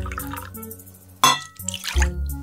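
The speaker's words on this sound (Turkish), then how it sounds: "Suyu koyayım." Water poured from a container into a bowl of PVA glue makes close splashing, trickling and glassy clinks, with a sharp knock partway through, heard alone without talk.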